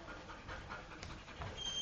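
Quick, rhythmic panting of a puppy up close, soft breathy huffs repeating without pause.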